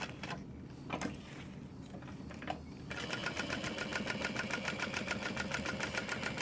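A sewing machine stitches a zipper onto a tote bag. Fabric handling and faint rustle come first, then the machine starts and runs in a fast, even rhythm of stitching, close and steady.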